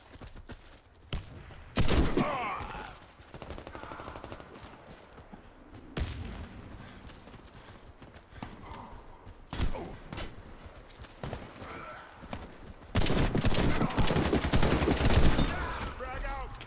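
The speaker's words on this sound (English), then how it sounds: "I shot him so many times with a shotgun." Shotgun fire in a video game, fired at close range: several loud, heavy blasts spaced irregularly, with a long sustained burst of gunfire near the end and softer game sounds between them.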